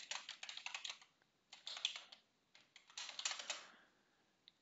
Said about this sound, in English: So you can type in a password.